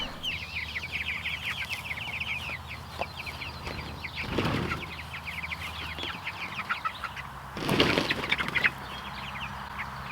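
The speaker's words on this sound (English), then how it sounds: "This is the first time I'm moving this batch of meat birds on pasture" Meat chickens on pasture cluck and chirp continuously in a busy, mid-distance chorus, with two louder rustling bursts as the flock is moved.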